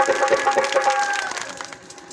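Applause rises from an audience at a Hindi religious discourse on the Ramayana, a dense wash of clapping that holds steady before thinning slightly toward the end.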